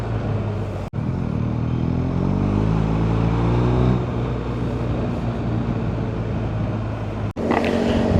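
A motorcycle rides along a road on a fine day, its engine droning steadily and close throughout with wind rush, broken by two brief dropouts.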